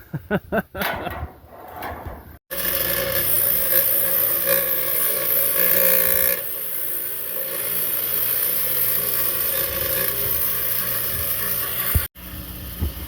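A piece of exhaust pipe for a mini bike straight pipe is cleaned up, giving a continuous, harsh abrasive rasping that runs loud and close for about ten seconds after a few brief knocks.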